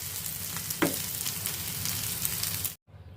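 Soybean bharta frying in a pan, a steady close sizzle with a brief stirring scrape partway through, then cutting off abruptly near the end.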